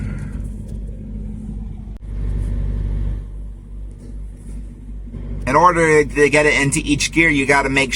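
A 10-speed truck engine rumbles low and rises briefly in a rev, then someone talks loudly over the idling engine.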